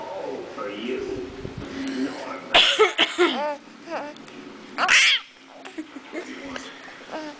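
A young child makes several short, forced coughs, imitating coughing, with a few bursts of breathy vocal sounds in between.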